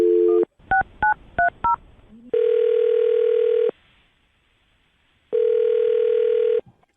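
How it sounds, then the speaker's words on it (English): A telephone dials a number: a short burst of tone is followed by four quick keypad beeps, then two long, loud ringback tones separated by a pause, with no talking. "I'll dial her phone number right now, see if we can get her on the phone"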